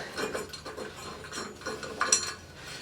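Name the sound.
removing bolts from EGR piece with ratchet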